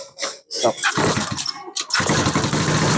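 A motorcycle engine on a charging-system maintenance bench roars as it revs toward 5000 rpm, loud and close, starting in bursts before holding a steady rough drone, with voices talking briefly over it.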